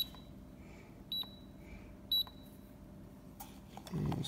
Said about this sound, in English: we'll start the timer